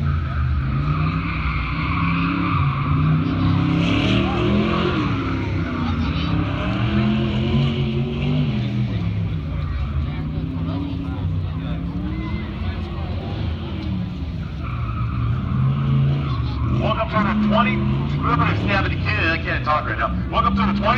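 A Chevrolet Blazer runs a timed race course at the Goodguys car show in Pleasanton, California, in June 2017. The engine revs loudly and shifts pitch through the turns with tire squeals, while an announcer talks over it throughout.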